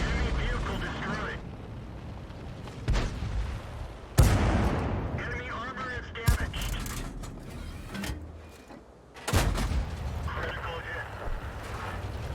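Tank cannon shots in World of Tanks, fired from a T71, crack out as a few sharp, loud blasts spaced seconds apart, with mechanical reload clanks and someone talking over the action.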